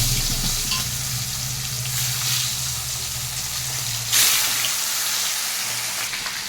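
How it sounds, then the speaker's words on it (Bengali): Pieces of fish sizzle and crackle loudly in hot oil in a wok, a steady bubbling fry running throughout with a brief sharper hiss partway through as another piece goes in. "মাছগুলোকে দিয়ে দিচ্ছি আমি এক এক করে"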